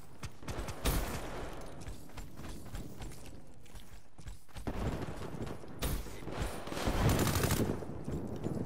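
Video game gunfire from an R70 Ajax, bursts of rapid shots mixed with mechanical game sounds, loud and close in several clusters.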